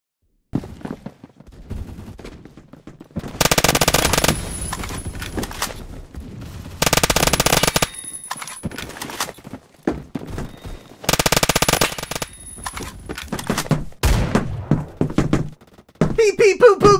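Bursts of rapid SMG fire from a Colt SMG 633 in the Phantom Forces shooter game, several loud sustained volleys separated by quieter gaps with scattered single shots and game noise.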